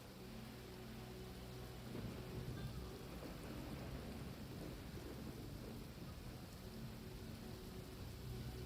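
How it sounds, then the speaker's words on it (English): Steady rain pours in a Genshin Impact game scene, with low rumbling thunder rolling underneath throughout, a dense continuous wash of downpour with no talking. "It's raining again."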